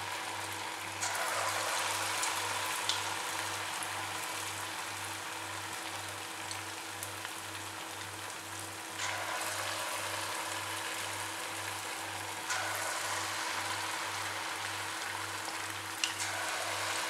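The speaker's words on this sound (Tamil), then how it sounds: "இப்போ வறுக்க ஆரம்பிச்சிடலாம்." Semolina snack batter deep frying in hot oil, a soft, even bubbling hiss held steady throughout, fairly quiet and close, under a faint low mains hum, with no talking.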